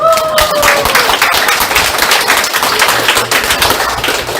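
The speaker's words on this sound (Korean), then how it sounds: "박수 한번" Dense audience applause and clapping at a Korean party members' education meeting in Busan, a steady loud wash of claps throughout, with brief voices and a faint tone early on.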